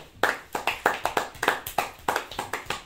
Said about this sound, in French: Applaudissons encore pour le Seigneur.